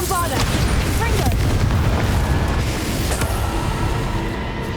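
Bombarda and Confringo spell blasts in Hogwarts Legacy ring out as a steady barrage of booming explosions and bursts, loud and close, layered over dense game effects with no pause.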